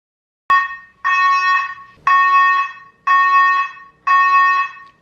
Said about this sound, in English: Fire alarms are going off.